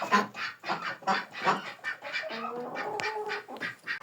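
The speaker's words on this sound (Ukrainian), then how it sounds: "О, дивіться, курка." Hens cluck in a backyard poultry yard, with short, irregular calls in a loose rhythm. The birds sound close, and other fowl noises fill in around them.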